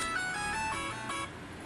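A mobile phone ringtone plays a bright, chiming melodic tune, fairly faint and alone, for under two seconds.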